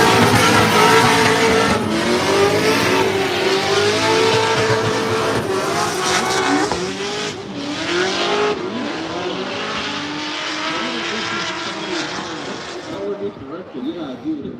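A Corvette drift car at a Formula Drift ProSpec warm-up in Utah accelerates hard through a chicane, engine roaring loudly with tire squeal and skidding throughout, while a commentator talks over it.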